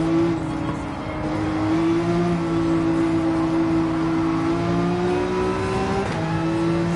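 A Porsche 911 in Gran Turismo 7 accelerates hard in first gear, its engine a steady rising drone with whining tones, alone and fairly close throughout.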